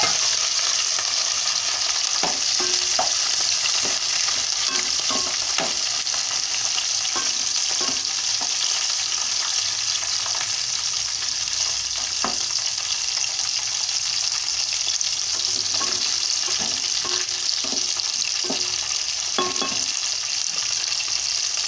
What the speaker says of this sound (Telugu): ఆయిల్లోని మిరపకాయలు వేయించుకోవాలి